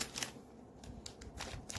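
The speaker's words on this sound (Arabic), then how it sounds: "نفتح الكيس ده" A sealed plastic packet of sweet biscuits is torn open: a few quiet, sharp crinkles and rustles in short bursts, close by and alone.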